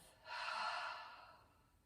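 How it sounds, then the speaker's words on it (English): A single slow cleansing breath at the end of a grounding yoga flow, drawn in through the nose and let out through the mouth as a soft, close, airy exhale. "Inhale through the nose, and exhale through the mouth."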